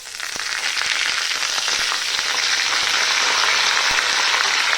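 Curry leaves hit hot oil alongside browned onions for a moong dal tempering, giving a loud, steady crackling sizzle that holds throughout with small pops, and no talking.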